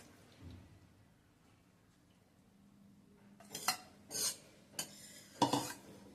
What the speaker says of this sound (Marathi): जे शिजवलेलं रताळ आहे ते मी आता ह्या दुधामध्ये घालणार आहे